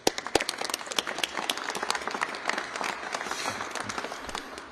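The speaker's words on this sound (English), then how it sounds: "Would you please give him a warm round of applause?" A small crowd in Minneapolis claps steadily, sharp individual hand claps forming an even wash of applause that continues throughout without talking.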